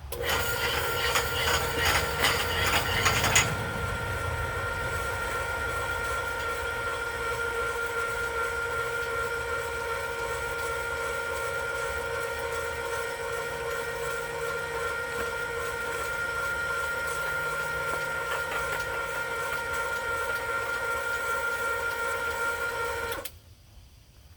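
A tube roller is cranked by hand to bend tubing, producing a steady sustained mechanical hum and whine that starts with a brief rattling burst and cuts off near the end.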